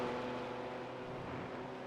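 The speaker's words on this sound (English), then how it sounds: "Also great sound again of these cars." BMW M2 Cup race cars in a sim racing game drone with a steady, dense engine roar, several cars blending into one continuous mechanical hum at even loudness with no talk.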